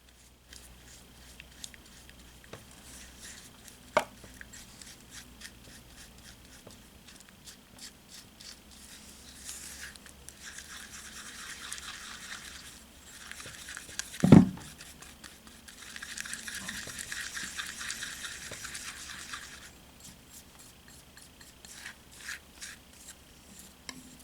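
Soda and aloe vera are stirred together into a face mask, a faint, close scraping and rubbing of a utensil in a small bowl, going on in uneven strokes with brief louder bursts and one sharp knock.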